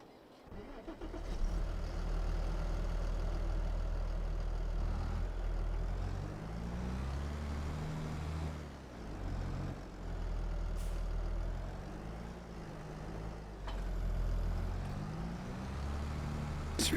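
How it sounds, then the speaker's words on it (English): A big potato harvester engine in Farming Simulator 22 drones steadily at low pitch throughout, rising and falling slightly in revs, close and continuous, with a brief rattling clank partway through. "It's a pretty big potato harvester thing here."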